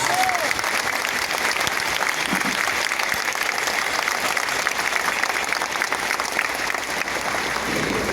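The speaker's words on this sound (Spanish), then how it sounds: "Un fuerte aplauso al Señor de los milagros" A congregation applauds loudly and continuously at a healing Mass in the Basilica of the Lord of Miracles in Buga, a dense, even roar of many clapping hands that holds steady throughout.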